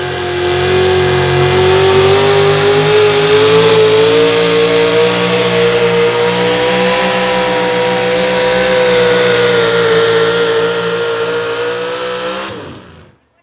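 A modified Chevrolet 4x4 pickup roars at a truck pull in Rock Valley, engine held loud and steady near full throttle for about twelve seconds before cutting off abruptly.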